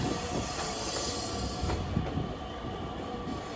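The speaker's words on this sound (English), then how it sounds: "here's a nice South Shore train" A South Shore Line commuter train rolls past close by, a steady rumble of wheels on rails with occasional metallic squeals and clicks, no voices.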